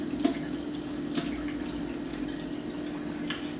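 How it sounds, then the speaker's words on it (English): Water slowly trickling into the tubing of a homebrew wort chiller during a leak test, a faint, steady flow with a few soft splashes and drips. "add water to the tubing"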